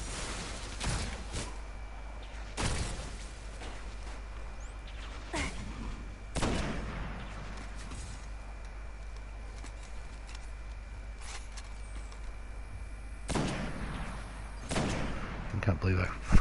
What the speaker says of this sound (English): I still can't quite get over this hand cannon